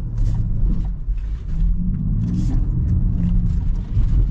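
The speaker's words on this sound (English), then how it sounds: "All the wheels are spinning." A 2024 Land Rover Defender grinds along a rough off-road trail with all wheels spinning, its engine a loud, steady low rumble with surging revs close to the microphone.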